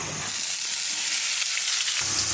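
Eggplant frying in a pan with greens nearby, a steady close sizzle and hiss filling the whole short stretch with no one talking.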